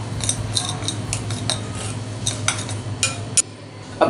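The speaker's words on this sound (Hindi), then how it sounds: "सारी चीज़ों को मिक्स कर लेंगे" A spoon scrapes and clinks steadily in a bowl as flour, maida and cornflour are mixed for street-style egg 65, close and busy over a low kitchen hum.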